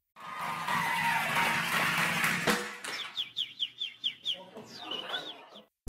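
Loud noisy rush gives way to a woman whistling rapid, repeated bird-like chirps imitating birdsong in a quick rhythm, ending with a warbling trill.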